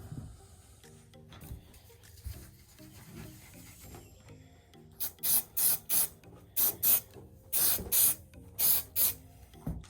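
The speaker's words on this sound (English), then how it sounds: "spray my glue." Spray can of glue released in about eight short, loud hissing bursts close up, each lasting under a second, after a quieter stretch of handling noises.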